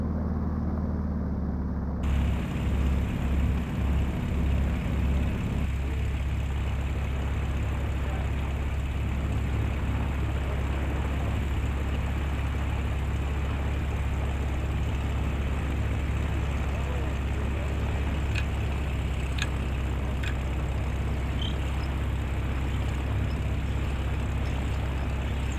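A gyroplane engine warming up on the ground after fuelling, a steady low droning hum that runs continuously and fairly loud throughout, with faint speech from the pilot over it.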